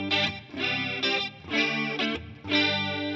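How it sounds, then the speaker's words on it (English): Electric guitar run through a TC Electronic TonePrint chorus modulation effect, sustained harmonic chords swelling and shimmering in several phrases with brief dips between, played alone with no voices. "It's a chorusing sound, it's quite obvious"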